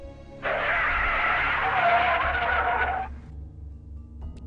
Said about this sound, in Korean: 브레이크를 힘껏 밟았고